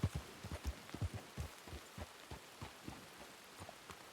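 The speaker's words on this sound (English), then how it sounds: "It's raining." Rain falls in the Red Dead-based game WildRP, a faint steady patter with soft dull thumps of drops, some landing on a coat.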